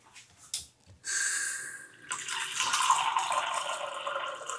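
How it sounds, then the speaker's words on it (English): Water pours into an Instant Pot while making Korean BBQ birria, a steady splashing stream that starts, pauses briefly, then continues close and moderately loud. "add one more half cup of water into the Instapot"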